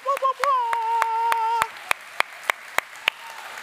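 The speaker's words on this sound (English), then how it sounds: "I know we've done a lot of clapping today" Steady rhythmic clapping, sharp single claps at an even beat, following a brief sustained vocal tone at the start.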